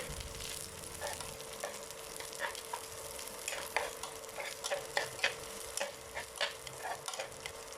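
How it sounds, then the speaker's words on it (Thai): Steady crackling sizzle of dried chili and garlic stir-frying in a hot pan, with scattered scraping and stirring clicks, fairly quiet and without talk. "ใส่ พริกกับกระเทียมผัดจนสุกจนหอมเลยค่ะ"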